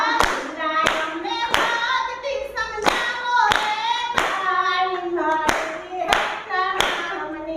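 Steady rhythmic hand clapping keeps time under loud singing during a Gujarati kirtan, roughly one clap every two-thirds of a second, with voices carrying the melody throughout.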